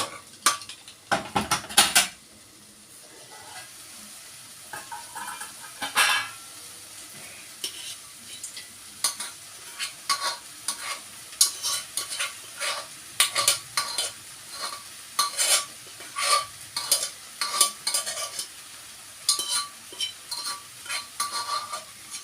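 Green beans being stirred into wilted greens in a pan for a Kerala thoran, with a spoon repeatedly scraping and clinking against the metal over a soft sizzle, the strokes coming in irregular close bursts.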